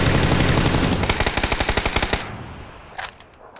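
Loud, rapid automatic gunfire in PUBG, a dense burst of evenly spaced shots that fades out, then a single fainter distant shot a moment later.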